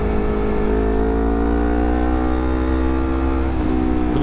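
A Honda CBR250RR motorcycle fitted with a WRX GP3 exhaust, its engine idling and revving in a steady, loud, close drone with a slight rise in pitch toward the end.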